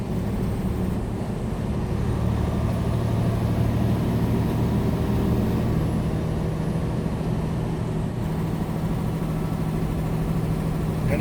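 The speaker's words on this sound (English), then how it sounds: "We're going to upshift now. 45 mile per hour. We're going to give it some fuel." A vehicle engine pulls steadily after an upshift at about 45 mph on a desert highway, a continuous low drone with road and wind rush, loud and even throughout, no talk.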